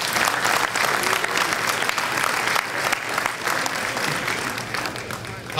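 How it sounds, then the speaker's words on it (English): A large audience gives a dense, steady round of applause at a gathering recalling the MRF concerts. The clapping stays loud and even for the whole stretch, with no talking over it. "Round of applause for those who worked the MRF."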